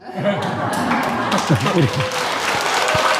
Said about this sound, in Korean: 사종스님들께 큰 박수 한번 보내주십시오